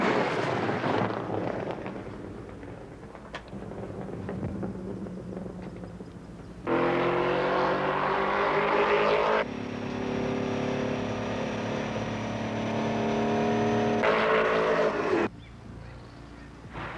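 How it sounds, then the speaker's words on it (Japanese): A Porsche race car runs fast on a track, its engine a steady loud drone that swells and shifts pitch as it passes and changes gear, then drops away near the end. "here comes the Porsche, catching it up very well"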